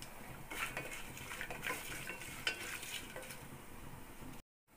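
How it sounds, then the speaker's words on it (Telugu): Cashew nuts frying with clove, cardamom and cinnamon in a cooker, a quiet steady sizzle with faint stirring and utensil scrapes, ending abruptly. "జీడిపప్పు కాస్త ఫ్రై అయింది కదండి."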